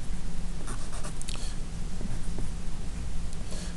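A pen or marker sketches a velocity versus time graph by hand, with steady scratchy strokes and brief taps running close and continuous over a low room hum, no talking.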